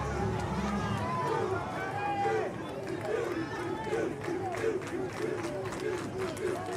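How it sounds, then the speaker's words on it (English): Crowd murmur and chatter at a high school baseball game at Ozinga Field, a steady, fairly distant hubbub of many voices with no sharp cheers standing out. "Crowd is electric here at Ozinga Field."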